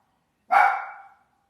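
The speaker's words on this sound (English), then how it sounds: "That's my dog." A single loud, close dog bark that rings out sharply and fades within about half a second, with silence before and after.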